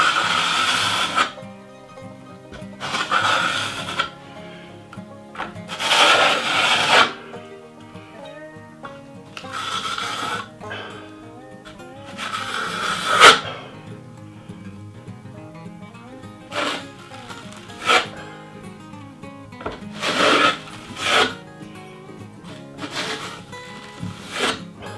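Metal drywall knife dragged through joint compound over a Texas-style drywall patch, a series of close, scraping swipes of a few seconds each separated by brief pauses, some strokes harsher than others.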